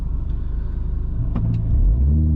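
A diesel Toyota VXD engine idles with a low, steady rumble close by, then climbs into a brief rev near the end.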